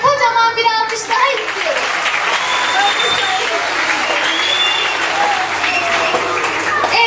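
Audience applause at a children's summer activities award ceremony, a long steady wash of clapping from a large crowd after an opening voice and a few whistles, with faint voices mixed in.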